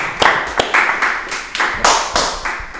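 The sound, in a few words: team applauding Sanjos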